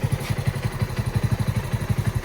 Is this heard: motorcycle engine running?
yes